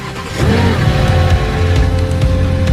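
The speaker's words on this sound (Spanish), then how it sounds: "intentará arrancar el motor y encenderá a la primera" A wrecked and rebuilt BMW M3 Competition fires up on the first try, its engine catching after a brief start and settling into a loud, steady rumble close by.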